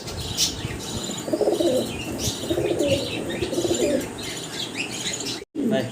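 Several pigeons in a Bengali pigeon market coo in low, repeated rolling bursts close by, with sharp chirps from other birds above and a brief wing flutter near the end.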